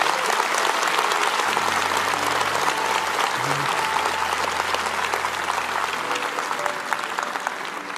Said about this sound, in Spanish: Denles un buen aplauso a esos que están de pie.